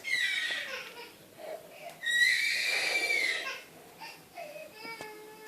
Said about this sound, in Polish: A oto i nasz najlepszy koń, Monty.